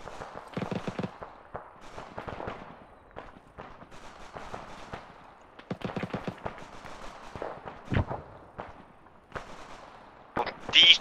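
Gunfire aimed at houses in an Arma 3 counterinsurgency mission: scattered distant shots and short bursts crack irregularly, some sharper and closer, with faint voices between them.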